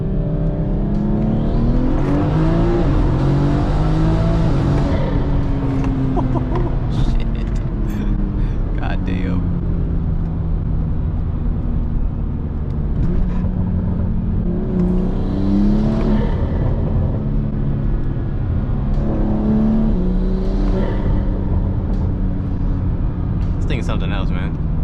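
A BMW M4 accelerates hard through second gear, its engine surging with a rising whine that runs the whole way through. Someone talks over it inside the cabin.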